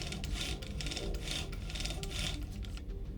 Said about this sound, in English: The bit certainly cuts well,